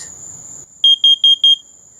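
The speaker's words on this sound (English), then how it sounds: "So now the smoke alarm as well as the CO2 is activated" A combination smoke and carbon monoxide alarm gives four short, loud, evenly spaced beeps right after activation, following a faint hum.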